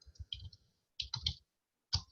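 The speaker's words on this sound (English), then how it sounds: "I'm just typing what I showed you guys earlier as far as what to add" Computer keyboard typing in quiet close clicks, arriving in three short bursts of rapid keystrokes separated by brief pauses.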